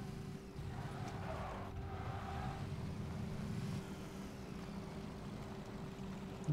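A steady engine rumble with a constant drone from a car driving around nearby in the video game Battlegrounds, continuous and without speech.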